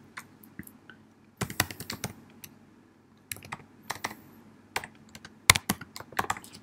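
Someone types a username on a computer keyboard, irregular bursts of close, crisp key clicks separated by short pauses, no talking.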